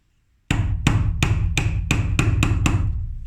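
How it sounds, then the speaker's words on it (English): A hammer gives a couple of sharp taps and then a quicker run of metallic strikes, pressing a washer down onto a rivet on a steel jeweler's block. About eight crisp, evenly spaced hits ring out close and loud with no talking. "Give it a couple of taps like that"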